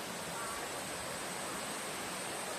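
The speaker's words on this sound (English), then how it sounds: "Look at that waterfall over there." Steady rushing roar of a waterfall in Thailand, a broad continuous hiss heard from a distance, faint and unbroken with no talk.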